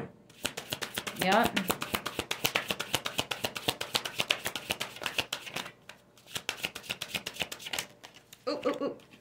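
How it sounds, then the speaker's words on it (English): A bunch of tarot cards falls and riffles during a shuffle, giving rapid dense clicking flutters in repeated bursts close to the microphone, with a brief spoken word partway through. "Bunch of cards just fell."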